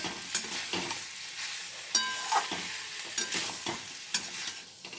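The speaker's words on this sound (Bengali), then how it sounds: "এবার আমি দিয়ে দেব ভেজে রাখা কাঁঠালের বীজগুলো দিয়ে আবার খুব ভালো করে এর সাথে আমি মিশিয়ে নেব মশলার সাথে" Fried jackfruit seeds being stirred into potatoes and spice paste for a vegetarian curry, a low frying sizzle with several sharp spatula scrapes and clinks against the pot at irregular intervals.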